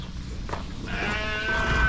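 A sheep bleats at feeding time on a farm, a single drawn-out, wavering cry close by that rises out of low background noise, with no talking.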